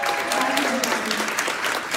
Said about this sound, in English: Let's give a round of applause for